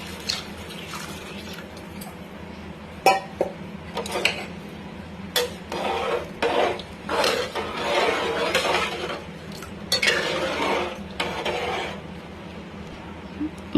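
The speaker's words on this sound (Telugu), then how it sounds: "3 గ్లాస్ వాటర్ యాడ్ చేసుకుంటున్నా" Three glasses of water poured into a pot of rice and dal, splashing and trickling in several bursts with clinks of glass against the vessel, close and fairly loud.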